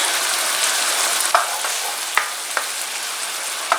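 Sweet peppers sizzle steadily in a frying pan with seasoned pork chops, a continuous hiss with a few sharp clinks and pops from utensils or food dropping in.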